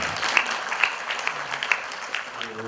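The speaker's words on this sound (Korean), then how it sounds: "뜨거운 박수로 맞이해 주시기 바랍니다." An audience gives a warm round of applause at a special commemoration ceremony, a dense even clatter of clapping with a few sharper claps standing out.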